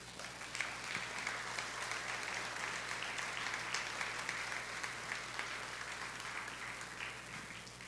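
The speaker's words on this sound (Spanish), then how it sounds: "Dale un aplauso al Señor." Church congregation applauding steadily and fairly loudly for the whole stretch, a dense even wash of clapping with no break.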